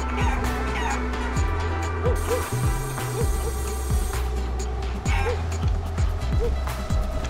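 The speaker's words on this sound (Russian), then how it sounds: "Так она очень высоко прыгает, эта курочка" A cartoon chicken in the video game Guacamelee! clucks in short repeated bursts over game music and jumping effects, while someone talks over the gameplay.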